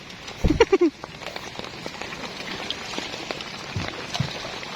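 Rain falls steadily as a soft, constant patter, with a brief voice near the start and a few scattered knocks.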